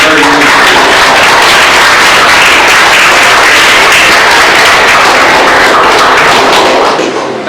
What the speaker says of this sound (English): Clap for them and say thank you for bringing me.